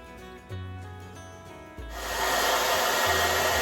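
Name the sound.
hair dryer blowing on cool setting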